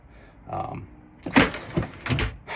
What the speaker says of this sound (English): come on, drawer close.